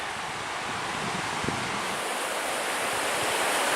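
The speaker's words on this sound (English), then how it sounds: "That's a little windy right here" Steady broadband wind roar blowing across a microphone beside the Temperance River on the Superior Hiking Trail, a continuous close rush with no let-up and no voices.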